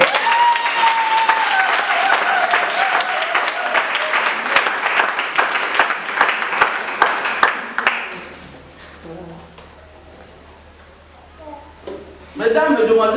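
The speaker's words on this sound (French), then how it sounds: "Applaudissons encore." Sustained applause from a civil wedding audience fills the first eight seconds with dense clapping over talk, then fades to a quiet room before a voice and low hum resume.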